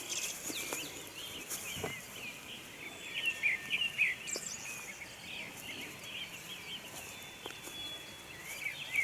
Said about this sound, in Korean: 산새 소리 저 들리죠